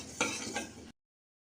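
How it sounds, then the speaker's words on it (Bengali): Mung dal being dry-fried and stirred in a pan for a morning dal, with a utensil scraping and clinking against the pan in two brief bursts over a soft sizzle before cutting off. "আজকে সকালবেলা একটু মুগের ডাল করব, তাই ডালটা একটু ভেজে নিচ্ছি।"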